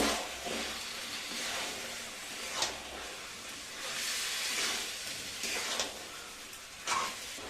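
Goat head pieces sizzle steadily in a pan of potato spice mix while being sautéed, a continuous frying hiss with occasional louder crackling bursts, close by.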